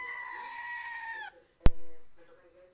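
A single long, wavering goat bleat, followed by a sharp click and a shorter, fainter bleat-like cry.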